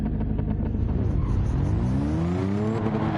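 Nissan GT-R race car in Gran Turismo 7 on Trial Mountain, Gr.4 class, a loud continuous engine roar rising and falling as it accelerates and shifts, heard from inside the car with no talking.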